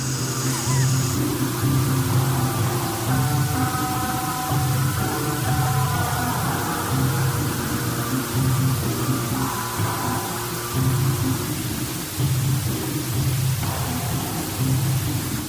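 Steady broadband hiss like white noise fills the whole stretch, with faint low tonal hum and murmuring underneath, continuous and unchanging in loudness.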